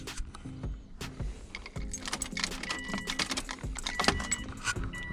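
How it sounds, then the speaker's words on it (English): A set of car keys jangles close by as the ignition key is turned off and on, with bright metallic clinks and rattles and a few clicks in quick succession. "turn the ignition key to the off position, turn the ignition key to the on position"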